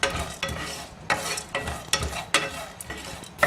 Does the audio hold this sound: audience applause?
no